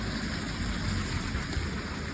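Heavy rain pours steadily under a canopy of trees during an outdoor Paralympic race day, a dense, even wash of drops with no breaks and no voices.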